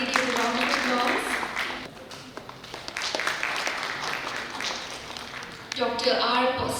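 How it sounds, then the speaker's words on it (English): An audience at a formal ceremony gives a round of applause, steady clapping running throughout while a voice talks over it at the start and again near the end. "Kindly give a round of applause."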